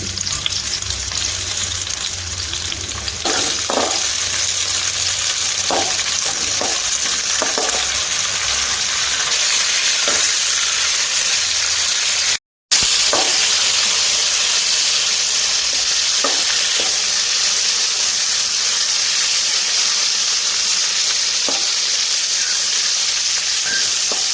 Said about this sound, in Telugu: కొంచెం ఆయిల్ పోసుకుని పచ్చిమిరపకాయలు వేయించుకున్నాము